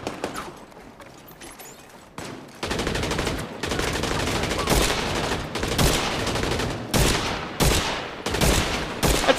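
Sustained gunfire in the video game The Division 2: loud, dense bursts of automatic fire in repeated volleys after a quieter opening stretch.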